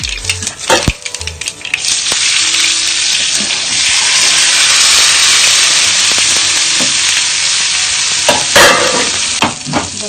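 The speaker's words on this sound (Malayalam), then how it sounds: "ഞാൻ അതിലേക്ക് കുറച്ച് ചെറിയുള്ളിയും കറിവേപ്പിലയും കൂടെ ഇട്ട് കൊടുക്കുന്നുണ്ട്." Shallots and curry leaves fry with mustard seeds in hot coconut oil, giving a loud, continuous close sizzle with crackling and occasional spoon-stirring clatter.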